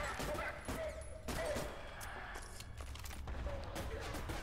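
Rapid bursts of video game gunfire in ADACA crack over a dense, noisy game soundscape, with several sharp shots spread across the clip.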